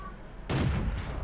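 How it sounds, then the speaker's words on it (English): A tank cannon fires in World of Tanks, a single loud booming blast that cuts in abruptly and rings out briefly, aimed at a Churchill tank. "I'm going to take some shots at this Churchill anyway, using my gun depression."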